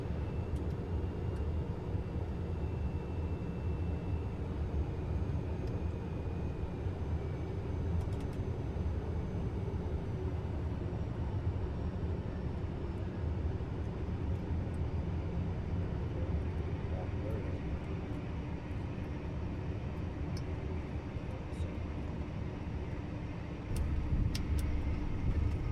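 Inside the cockpit of a Phenom 300E business jet during landing, a steady broadband roar of engine and airflow fills the cabin, with a slight shift near the end as the aircraft touches down.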